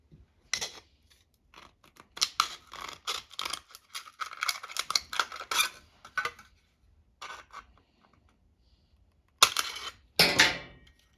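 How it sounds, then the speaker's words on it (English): Cutters snip down the center of an aluminum can in a series of sharp, close metallic crunches and clicks, uneven in rhythm, with short pauses and a louder final cut. "And then you want to use your cutters and just split the can down the center."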